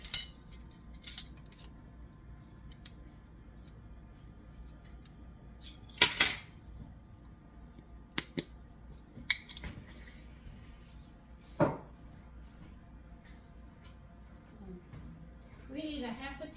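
A metal measuring spoon clinking against jars and containers while spices are measured out in a kitchen. The light, sparse clinks and taps come at irregular gaps over a quiet background.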